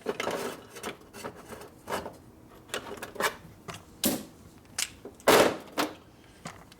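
A coarse cutter ports motorcycle cylinder heads in irregular bursts of rough grinding and scraping, close and intermittent, with short pauses between passes and one louder burst near the end.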